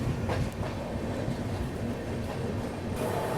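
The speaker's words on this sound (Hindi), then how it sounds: "यहाँ से अपनी ट्रेन अब बढ़ चुकी है आरा की ओर।" Northeast Express passenger train rolling out of Buxar station in Bihar, heard from on board as a loud, steady rumble with rhythmic clickety-clack of wheels over rail joints and a faint squeal, with no voices.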